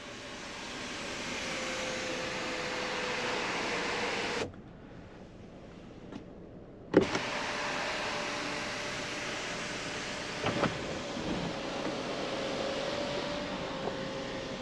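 The electric window or sunshade motor of a 2020 Hyundai Santa Fe Limited hums steadily up close, stops for about two seconds, then runs again with a soft click between runs. Nobody talks.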